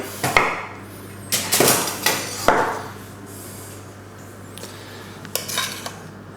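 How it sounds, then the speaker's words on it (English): Metal utensils clink and scrape against a pan several times while a bay leaf and a sprig of thyme are lifted out during potato gratin preparation, giving close, sharp clatters in bursts with quieter gaps. "just take out the bay leaf or leaves and that bit of thyme"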